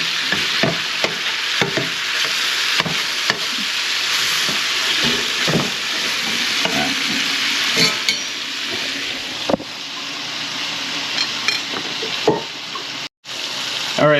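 Chicken fajitas fry in a cast iron skillet with a steady, close sizzle, broken by repeated scraping and stirring clicks from a utensil, with no voices over it.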